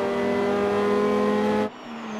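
Toyota AE86 race cars from a 2013 old-versus-new Hachiroku battle accelerate hard on a circuit straight, a loud sustained engine roar that cuts off abruptly near the end, leaving quieter engine tone.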